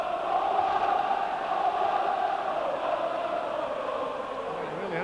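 A distant Leeds United football crowd at a 1990-91 match against Chelsea sings in a sustained, blended chant that holds steady throughout, slightly muffled and far off.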